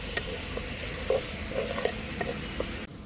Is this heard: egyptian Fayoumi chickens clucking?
no